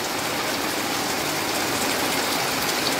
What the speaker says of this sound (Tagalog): Grabe talaga lakas ng ulan.